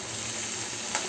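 Curry frying in a pan, a continuous soft sizzle with a faint stir near the end, steady and close.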